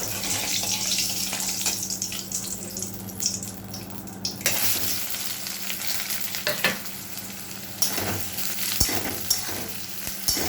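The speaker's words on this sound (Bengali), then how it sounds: "পেঁয়াজটা একটু ভাজা ভাজা হোক।" Onion frying in hot oil in a kadai wok for a lote fish curry: a continuous loud hiss and sizzle close by, broken by scraping stirs and a few clacks of the spatula, with no talk.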